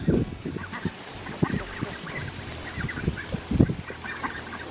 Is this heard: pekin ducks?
yes